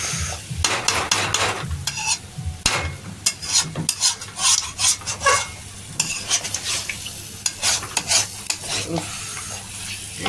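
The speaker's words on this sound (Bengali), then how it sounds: "এটা কমলাম, এবার কষাচ্ছি, দেখুন কষাচ্ছি" Masala being sautéed and stirred in a pan over lowered heat, a close, steady sizzle of frying broken by repeated scraping strokes of a spoon against the metal, with brief clatters of utensils.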